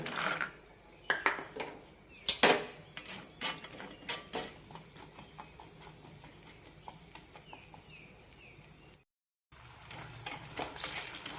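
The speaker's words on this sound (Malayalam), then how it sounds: "ഇനി അണ്ടിപ്പരിപ്പ് വറുത്തെടുക്കാം" Cashews roasting in a metal pan rattle and clatter in busy bursts that thin out to lighter scraping, with a short silent gap near the end.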